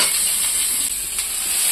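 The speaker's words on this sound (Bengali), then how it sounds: "এই দেখো কালো জিরে দিয়ে দিচ্ছি" Black cumin seeds hit hot oil in a kadai for greens, giving a loud, even, steady sizzling hiss that holds for the whole brief moment, close by with no voices.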